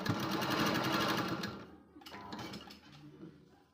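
A sewing machine stitches tucks on a blouse in a fast, loud whirring run that slows and fades, then a few short bursts of stitching follow, close up with no talk.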